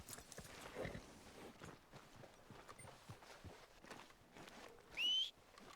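In Red Dead Redemption 2, a horse walks with quiet, steady clip-clopping hooves, and a brief high whistle sounds near the end.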